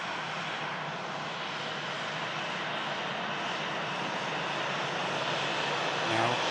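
A Ryanair airliner bound for Brussels roars at Manchester Airport, a steady broad engine rumble holding loud and even throughout.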